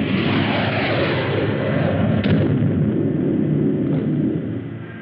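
Heavy artillery fire in a 1950s science-fiction TV series, Rocky Jones, Space Ranger: a dense, continuous roar of booming blasts and rumble that fills the whole stretch, with a couple of sharper cracks partway through, loud and without talk.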